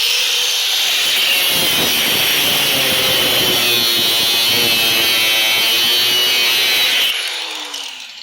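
A 4.5 inch cut-off wheel grinds through spot welds on a Honda Civic EG hatch door. The loud, harsh, continuous screech lasts about seven seconds, then the wheel cuts off and winds down.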